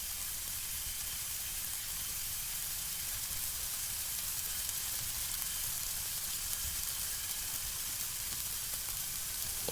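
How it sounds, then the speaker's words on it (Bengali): Maggi noodles cook in a pan with a little hot water, giving a steady, even sizzling hiss that stays fairly soft and constant with no talking. "এরপর এর মধ্যে দেবো অল্প গরম জল আর দেবো ম্যাগি দিয়ে"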